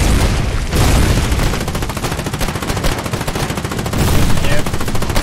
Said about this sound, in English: Mortars are getting here.